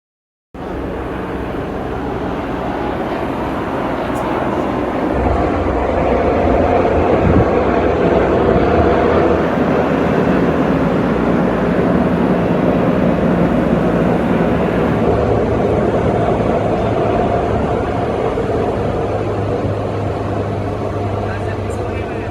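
Military helicopters, Black Hawks and Sikorsky CH-53s, flying over Gaza while evacuating injured people, a loud continuous rotor and engine rumble that holds steady throughout, with the beat of the heavy machines low and sustained.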